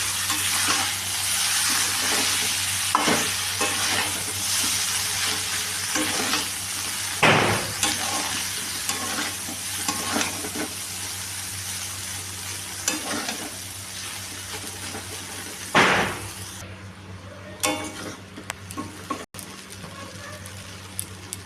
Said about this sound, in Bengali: এখন এটা ভাজা হবে, একটু ভালো করে নেড়ে চেড়ে মিশিয়ে ভেজে নেব।